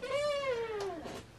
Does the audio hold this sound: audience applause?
no